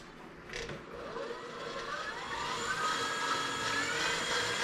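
Electric mixer running on high, whipping egg whites with cream of tartar in a bowl, a continuous whirring whine that rises slightly in pitch as it keeps going, close and steady.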